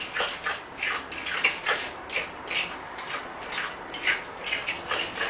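A spoon works guacamole around a bowl of mashed avocado, giving a steady run of soft wet slaps and scrapes in an even rhythm, close and alone without any talk.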